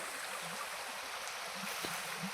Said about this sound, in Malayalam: ഇതാണ് തോട്.